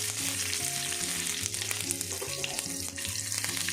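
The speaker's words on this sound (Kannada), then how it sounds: "1 ಎಸಳು ಕರಿಬೇವು ಸೊಪ್ಪು ಹಾಕಿ ಚೆನ್ನಾಗಿ ಬಾಡಿಸ್ಕೊಳ್ಳಿ." Mustard seeds, broken dried red chillies and a sprig of curry leaves fry in hot oil for a ridge gourd chutney tempering, giving a steady close sizzle with crackling pops, no talk.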